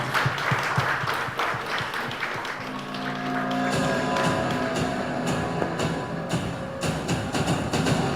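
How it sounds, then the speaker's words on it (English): Audience applause at a Teachers Day award ceremony in Hyderabad, steady and fairly dense throughout, with a background murmur and some tonal sound layered in partway through. "Give a round of applause."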